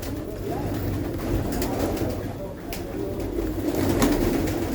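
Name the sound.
pigeons cooing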